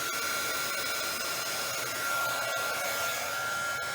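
A hair dryer blows paint across a geode painting, giving a loud, close, steady whooshing drone that holds without pause throughout.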